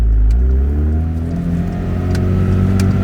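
Porsche 911 GT3 with a manual gearbox in Touring form pulling away, its engine note climbing in pitch as it accelerates, loud and close with no talk over it.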